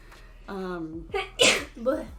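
One loud sneeze right up close, a drawn-in breath and then an explosive burst, with a voice briefly following.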